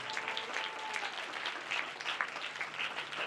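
A congregation at a church service claps together, a faint, fairly distant patter of many hands that runs steadily for a few seconds.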